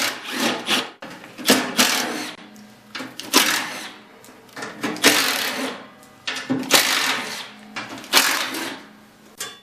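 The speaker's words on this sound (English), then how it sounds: "I'm going to remove the 6 bolts holding the belly pan, and the impact driver will make quick work of that" A Milwaukee impact driver removes the belly pan bolts on a snowblower, heard as repeated loud bursts of rattling hammering separated by short handling noises.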